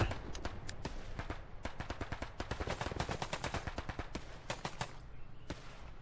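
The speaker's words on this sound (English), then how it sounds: "Roger, strafing coming in on a hotel from north to south." Air support strafing run in the game Hell Let Loose, a long continuous barrage of rapid gunfire with dense overlapping shots and impacts, steady and loud throughout.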